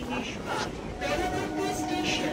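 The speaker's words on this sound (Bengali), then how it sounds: "এই যে ট্রেনটা যাচ্ছে এটা 9টার মাঝেরহাট মধ্যমগ্রাম লোকাল" Majerhat–Madhyamgram local train passing near Tollygunge station, a rumbling, clattering wash with squeals and rail noise heard from aboard another train, with a voice talking over it.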